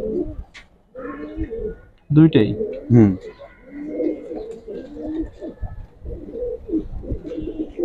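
Giribaz pigeons cooing in a loft, with several close, repeated coos in short bursts while someone talks over them.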